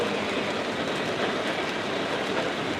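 Rail cars roll past in a steady, loud wash of rumbling noise with a faint clickety-clack texture, continuous and close, during a snowstorm, with no talking.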